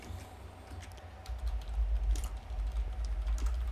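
Keys clatter on a computer keyboard in a quick, uneven patter of clicks, close and fairly loud over a low steady hum, growing denser toward the end.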